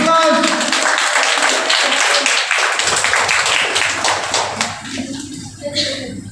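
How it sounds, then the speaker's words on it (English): A round of applause at a prize ceremony during a faculty development programme, with clapping mixed with voices and room noise, fading toward the end. "Okay, big round of applause."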